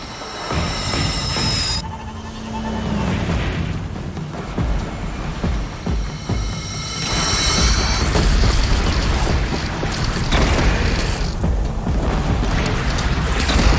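Cannon fire in Horizon Zero Dawn, loud booming blasts with rumbling low end layered over a dense, continuous game soundscape, heavier and sustained in the second half.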